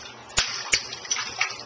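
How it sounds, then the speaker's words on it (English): A child splashes water in a bath, with several distinct slaps at uneven intervals over a gentle watery background, close by and with no talking. "Yay! You're splashing."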